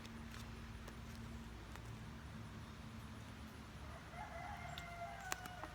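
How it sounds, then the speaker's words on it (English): A rooster crows somewhere in the distance over a steady outdoor background, with faint bird chirps near the end. "If you hear a rooster in the background,"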